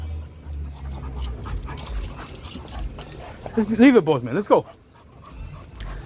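A pitbull on a walk whines and pants in a short rising burst of high-pitched cries after spotting another dog, close to the microphone, with someone speaking over outdoor street noise.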